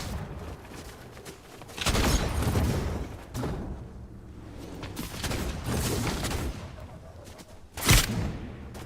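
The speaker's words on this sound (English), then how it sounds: "Who is shooting at me?" Gunfire in the Fortnite video game sounds in scattered bursts of shots and thuds at moderate loudness, with a sharper loud crack near the end.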